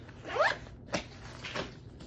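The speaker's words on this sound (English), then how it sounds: "Go ahead and zip this guy up." A zipper on a GR1 21L backpack being drawn closed in a few quick pulls, close and clear, with short rasping strokes separated by brief pauses and no talking.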